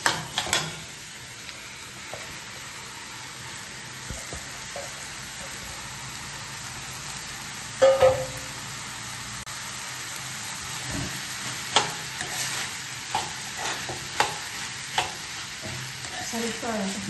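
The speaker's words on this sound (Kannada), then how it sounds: "ಸ್ವಲ್ಪ ಬಾಣಲೆ ನಿಧಾನಕ್ಕೆ ಇದನ್ನು ಮಿಕ್ಸ್ ಮಾಡ್ಕೊಳ್ತೀನಿ" Poha (flattened rice) is stirred and mixed in a frying pan, giving a faint crackling sizzle with scattered scraping and clinking strokes of the spoon, soft and irregular, with brief voice sounds.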